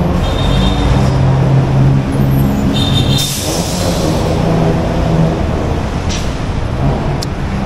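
Busy Bangkok city traffic rumbles close by, with a bus idling and a brief hiss of air brakes over steady road noise.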